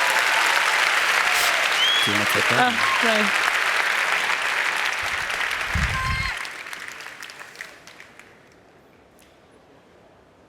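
Audience applause fills the hall after a startup pitch at the Slush 100 finals, loud and steady under brief talk before it fades out over the last few seconds.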